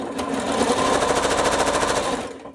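A sewing machine stitching a scant quarter-inch seam on quilt block pieces runs in one steady, loud, rapid mechanical burst for about two seconds before stopping.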